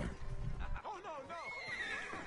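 A horse in the video game Red Dead Redemption Online gives a loud, close whinny that rises and wavers for over a second, preceded by low rumbling hoof and movement sounds.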